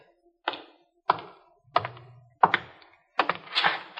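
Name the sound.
radio drama sound effect of a bucket and man falling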